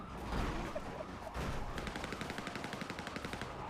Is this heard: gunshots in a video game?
yes